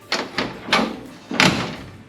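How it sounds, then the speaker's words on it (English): The door of a 1955 Chevy wagon in good shape is shut a few times, giving four separate thuds over about two seconds, with the last one the loudest and clearest. "door's still shut great."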